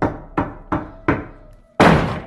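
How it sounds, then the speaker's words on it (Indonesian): Knocking on a door in a horror story: four evenly spaced dull knocks, close and loud, followed by a heavier thud. "di pintu lagi-lagi suara ketukan pun terdengar"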